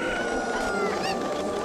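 Chickens in a video game cluck over a steady din of game sound and background noise, a few short chirpy calls rising midway through this brief stretch.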